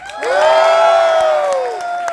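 Audience at an RCM Mission 50k program bursts into loud cheering and whooping with applause, a sustained crowd roar swelling quickly and holding for about two seconds before easing off.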